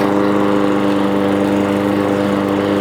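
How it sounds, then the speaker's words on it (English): A small Weibang lawn mower engine runs steadily nearby, a loud, even buzzing drone with a constant pitch and no voices. "So for a little lawnmower"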